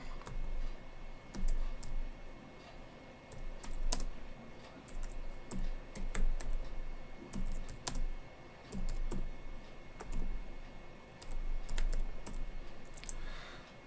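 Code typed on a computer keyboard while writing C#, a steady stream of light clicking keystrokes in uneven bursts and pauses, close and fairly quiet, with no talking.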